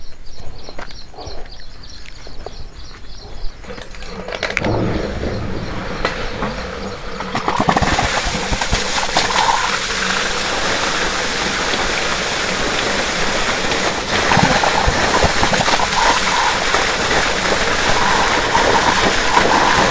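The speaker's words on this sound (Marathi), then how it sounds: "ही 500 HP मोटर आहे, यांची किती पाणी मारते तुम्ही बघू शकता मित्रांनो" Water gushing from a 500 HP motor pump: a quieter stretch at first, then a loud, dense, continuous roaring rush that holds steady and swells slightly toward the end, with no talk heard.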